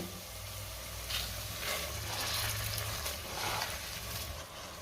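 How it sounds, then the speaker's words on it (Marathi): Washed dal and rice sautéing in a pan after being mixed with goda masala and cumin powder, giving a steady low sizzle and hiss with soft stirring swells, no talk. "डाळ तांदूळ मी 2 मिनिटं चांगलं परतून घेणार आहे"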